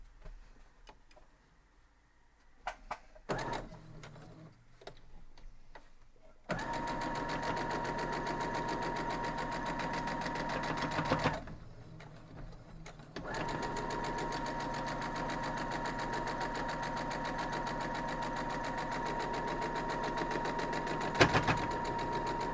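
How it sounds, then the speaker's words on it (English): A sewing machine stitching a quilt block, with a few quiet handling clicks before two long stretches of steady, fast, close needle whirring separated by a brief pause. "Now we're going to go sew it up."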